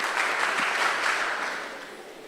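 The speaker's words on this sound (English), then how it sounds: "clap for yourself for coming in your numbers" A festival audience at a STEM mentorship session applauds in a dense, steady wash of clapping, fairly loud at first and fading gradually toward the end.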